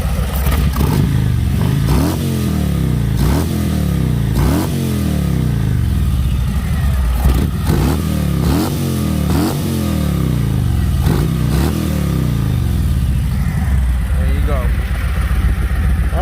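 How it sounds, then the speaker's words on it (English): A Harley-Davidson motorcycle fitted with a CFR exhaust and an Arlen Ness intake revs repeatedly, each loud throttle blip rising and falling in a steady rhythm over a rumbling idle, close to the microphone. "Let me rev it up a little bit so you can hear how it sucks the air in."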